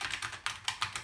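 Keys on a Commodore Amiga 500 keyboard are pressed in a slow series of about half a dozen soft, close clacks with no speech.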